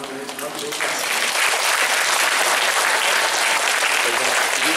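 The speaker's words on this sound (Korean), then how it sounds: "그래서 먼저 일단 큰 박수로 감사하다는 마음을 담아보도록 하겠습니다." Loud, sustained applause from a church retreat audience fills the hall, building quickly within the first second and holding steady as a dense wash of clapping.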